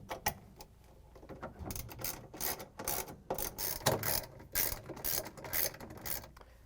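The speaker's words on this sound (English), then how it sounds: "we're gonna use a 3/8" socket with the ratchet and the extension to put in the bolts" A ratchet with a 3/8 inch socket and extension drives bolts into a GE washing machine transmission mount, giving close, quick bursts of clicking pawl ticks in uneven runs with brief pauses between them.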